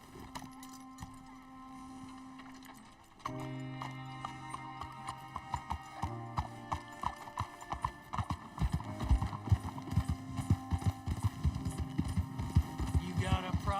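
Horse hooves clip-clop on the ground in the video game Red Dead Redemption 2, starting slow and quickening into a steady close trot over a low hum, with brief jangling.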